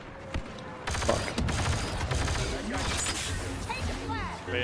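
Bursts of rapid gunfire and mechanical clatter come from an Xbox One shooter game, mixed with in-game effects and voices talking over the action.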